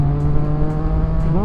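A motorcycle engine drones loud and close on a bumpy road, holding a steady pitch before it starts rising as the rider accelerates.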